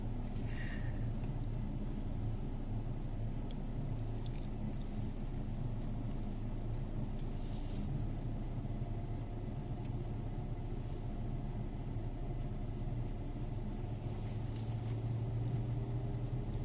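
Steady low rumble of car engines idling in stopped traffic, continuous and moderately loud throughout, with faint distant background noise and no talk.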